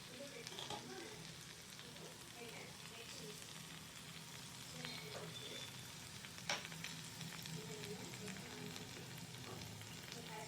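Chicken roasting in ghee in a pan and being stirred slowly, giving a faint, steady sizzle with soft scraping and stirring sounds throughout and one brief clack.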